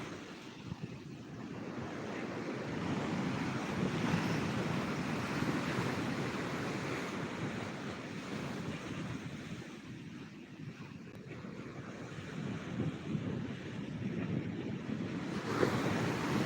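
Huge sea waves surge over the guard wall at Digha beach in rough weather, a continuous heavy roar of breaking surf mixed with gusting wind buffeting the microphone, with no talking.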